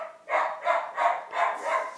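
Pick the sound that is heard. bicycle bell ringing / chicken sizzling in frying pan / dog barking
dog barking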